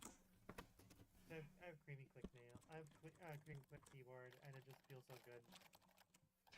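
A mechanical keyboard with tactile Cherry MX Brown switches is typed on with long fingernails, producing quick, crisp clicks that run under a person talking throughout.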